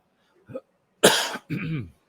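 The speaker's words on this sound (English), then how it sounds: "I'm coughing a lot" One small throat sound, then two harsh, loud coughs in quick succession, close up and otherwise quiet.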